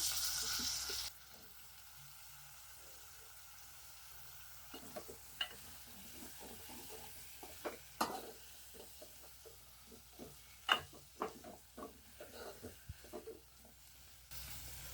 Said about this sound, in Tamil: நல்லா ஒரு பத்து நிமிஷம் நல்லா வந்து இந்த எண்ணெயிலே நல்லா வதங்கட்டும் உருளைக்கிழங்கு